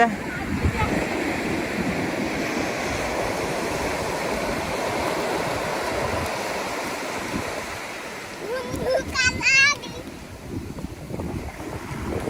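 Sea waves slap and rush around a trawler heading to Daruchini island off Saint Martin, a steady loud surf roar with wind buffeting the microphone; a brief high whistle-like call cuts in near the end.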